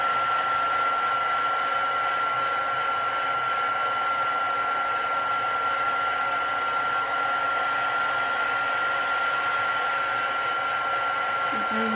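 A handheld heat embossing tool blows steadily while setting embossing powder on a stamped thank-you card, a constant, fairly loud whirring hiss that runs unbroken for the whole stretch with no talking.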